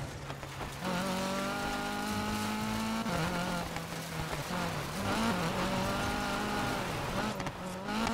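A race car engine roars steadily on the last lap in Need for Speed Payback, a video game. It revs up and down in pitch through gear changes and stays loud and close throughout.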